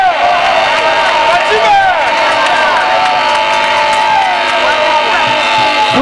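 A political gathering crowd claps and cheers steadily and loudly throughout, a dense roar of many voices and hands with no single speaker standing out.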